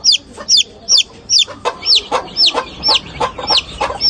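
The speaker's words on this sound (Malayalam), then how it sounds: "20 വർഷത്തോളമായി നാടൻ കോഴികളുടെ കൃഷി നടത്തിവരുന്ന കാരശ്ശേരി സ്വദേശി പ്രസാദിന്റെ വീട്ടിലാണ് 3 കാലുകളുള്ള കോഴിക്കുഞ്ഞ് വിരിഞ്ഞത്." A newly hatched three-legged native chicken chick on a Karassery poultry farm peeps in high, rapid, regular calls about twice a second, loud and close.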